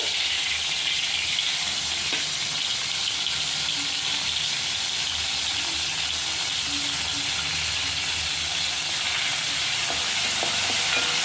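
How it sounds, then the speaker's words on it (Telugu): Mustard seeds, cumin and dried red chilies sizzling in hot oil in a wok, a continuous even hiss with faint scattered pops that runs unbroken throughout. "కొంచెం అదే బాండీలో ఆయిల్ వేసుకున్నా. జస్ట్ ఆవాలు, జీలకర్ర, కొంచెం ఎండుమిర్చి అంతే అండి పోపుకి"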